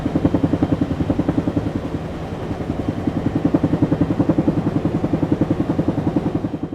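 A BDF helicopter flying about 1,000 meters up gives a loud, steady rotor thump with a fast, even chopping pulse that holds throughout, with no voices.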